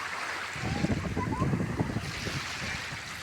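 Sea waves wash onto a rocky shore at Mariveles, Bataan, a steady rushing surge with windy microphone noise and a soft break of water in the middle.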